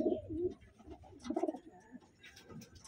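Pigeons give soft, close burbling coos in a few short phrases, with quiet chirps and brief rustles between them.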